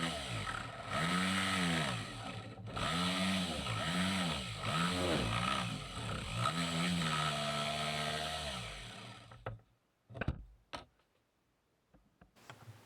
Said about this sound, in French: je découpe un cercle au plus près du repère que j'ai tracé sans le dépasser